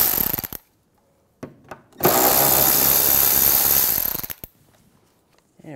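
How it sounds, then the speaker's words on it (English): 10mm socket ratchet loosening panel bolts on a 2009-2013 BMW 328i xDrive: a few sharp clicks, then a loud, fast two-second run of rattling ratchet spins, followed by faint handling noises. "Take these two out, you're going to use a 10mm socket for these."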